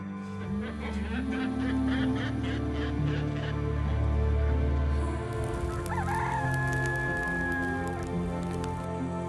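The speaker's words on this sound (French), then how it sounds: "On entend les coqs chanter, à mon avis le jour ne va pas tarder à se lever." Roosters crow repeatedly at a distance before daybreak during late-winter fishing, their calls overlapping against a constant low hum, with a thin whistling tone near the end.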